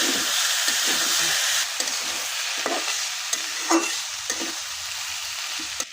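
Beef and potatoes frying in hot oil give a loud, continuous sizzling hiss, broken by repeated scraping and stirring knocks from the spatula in the pan, with no talk.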